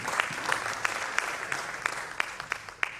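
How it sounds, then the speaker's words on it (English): Audience at a biomedical research conference claps steadily for a keynote speaker, a dense, even patter of applause from a mid-sized room with a few sharper individual claps. "Please, can you give me a round of applause for him?"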